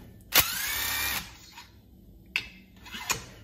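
A power tool spins out a 5mm Allen head bolt from a chainsaw muffler, one sustained whir close up for about a second, then two short bursts later on.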